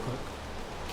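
Rain falling in the Minecraft video game, a modded tech pack world: a steady, even hiss of rainfall that runs through the whole brief moment with no talk over it.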